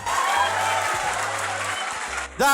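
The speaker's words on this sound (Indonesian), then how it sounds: "Jangan tepuk tangan, Anda semua" An audience bursts into applause during a comedy debate show, a dense sustained patter of clapping that cuts off abruptly near the end as a voice begins speaking.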